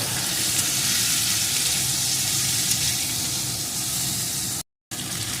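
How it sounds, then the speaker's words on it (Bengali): A spice masala with turmeric powder and four slit green chillies fries in a pan with a loud, dense, continuous sizzle, cut by one brief silent gap near the end. "এখন এই মশলাটা একটু কষিয়ে নেব"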